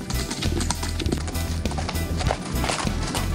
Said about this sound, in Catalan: L'Àlex Cribiller i els seus cavalls